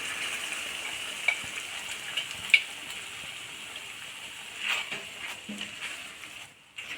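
Sautéed greens being stirred together with cooked lentils in a pan for a gravy, a soft continuous sizzle with occasional scraping and clinks, fairly quiet and without talk.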